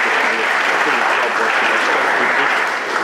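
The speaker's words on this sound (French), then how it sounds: "Veuillez bien les applaudir," An audience warmly applauds visiting high school and middle school students at the launch of a YALI youth leadership forum in Togo, a dense, loud and steady clapping from many hands lasting the whole moment.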